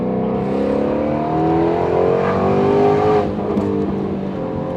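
A 2020 Ford Shelby GT350R engine revs hard while driving, rising harmonics climbing through an acceleration run, loud and close with no talk over it.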